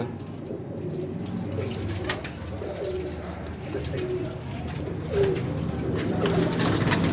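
Pigeons kept for sale in Faisalabad coo in low, steady rolling calls, close by against a constant background hum, with a faint voice now and then.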